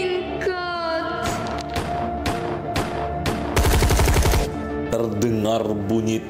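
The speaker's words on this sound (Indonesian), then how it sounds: "Terdengar bunyi tembakan tunggal yang mematikan." Gunfire in an Indonesian colonial-era war drama: a series of sharp shots, including a rapid burst of automatic fire, rings out over a tense orchestral score with voices mixed beneath.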